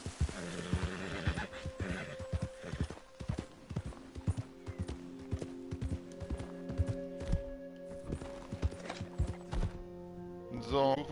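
A horse in Red Dead Redemption 2 gives a shrill whinny near the start, then hooves clip-clop in a steady rhythm with scattered thuds, ending with another brief whinny; no one speaks.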